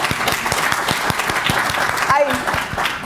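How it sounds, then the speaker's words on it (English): A seminar audience claps in a steady round of applause, dense and fairly close, with a voice briefly audible near the end. "I'd like to lead another round of applause for you."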